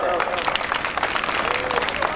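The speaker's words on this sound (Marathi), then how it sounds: "एकदा जोरदार टाळ्या होऊन जाऊ द्या" An audience at a public lecture in a village setting breaks into steady applause, a dense wash of clapping with a voice speaking over it.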